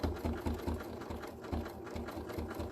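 Sewing machine sewing a zigzag stitch through stamped fabric, a close, fairly quiet motor whir with a steady quick thumping rhythm of the needle throughout, no talking.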